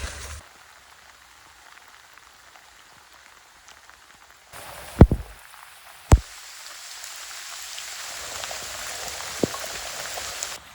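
Rain on the Camino Portugués, a steady hiss of falling drops that starts soft and grows heavier, broken by a couple of sharp knocks and a louder surge near the end.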